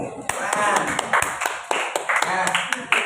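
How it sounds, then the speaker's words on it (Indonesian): Classmates in a classroom give a short burst of clapping for a student, with sharp, uneven claps scattered across a few seconds over a teacher's speech. "Oke, tepuk tangan untuk temanmu."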